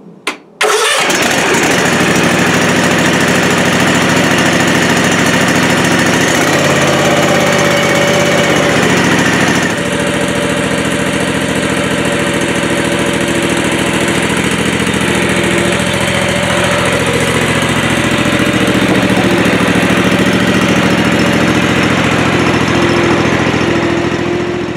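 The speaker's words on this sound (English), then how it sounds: "I'll pull the choke up briefly, turn the key to start, push the choke down." A 52-inch Ariens Ikon zero turn mower, four years and about 100 hours old, cranks and catches after a brief clatter, then settles into a loud, steady close-up engine idle with a slight shift in pitch partway through, and no talk.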